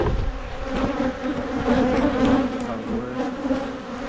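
Honey bees buzz steadily around hives during a fall inspection, a dense, continuous close-up drone of many insects with no breaks.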